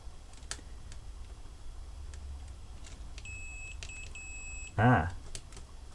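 A multimeter continuity tester probing a heavily varnished circuit board from a Canon Palmtronic 8s calculator gives a few short, quiet high beeps in quick succession, followed by a brief louder clunk, over a faint background hum.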